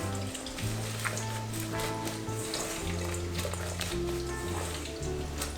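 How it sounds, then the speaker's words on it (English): Sizzling frying in a pan as pesto is stirred in beside fried turkey breast, a steady close crackle with light stirring scrapes and a low hum underneath. "We add a bit of pesto. Give it a good stir."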